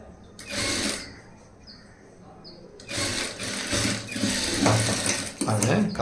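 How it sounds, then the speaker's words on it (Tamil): Sewing machine stitching a blouse lining in several bursts, first a short run, a pause with faint clicks, then longer rattling runs with gear-like chatter, close by and without speech. "4 இன்ச்சு கேப்பில் ஒன்று போல் தையல் போட்டுருங்க."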